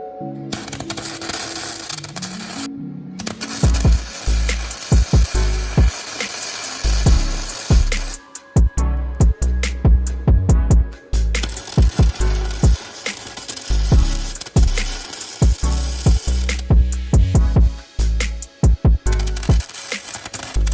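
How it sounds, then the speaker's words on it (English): Arc welding a racing lawn mower's rear differential into a solid axle, a loud, steady crackle and sizzle running in bursts with short pauses and sharp ticks of spatter. "It's not the cleanest looking weld, but should do the job."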